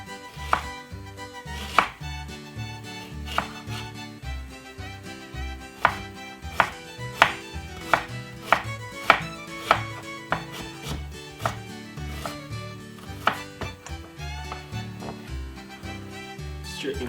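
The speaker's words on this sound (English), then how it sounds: "you need white onion, cut into half" A knife chops a white onion steadily on a cutting board, sharp rhythmic strikes repeating close up, with soft music playing underneath.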